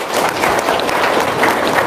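Loud audience applause at a motivational testimony seminar, dense steady clapping filling the whole stretch with some crowd noise mixed in.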